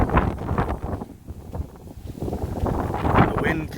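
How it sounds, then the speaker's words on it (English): Wind blowing along a park trail in Neshaminy State Park, buffeting the microphone in rough, uneven gusts that rise and fall, with a person talking over it throughout. "The wind kicks up way down there"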